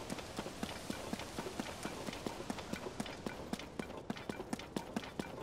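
Horse hooves in the video game Zelda: Tears of the Kingdom clip-clop in a quick, regular trotting rhythm, crisp and moderately close, continuing without pause.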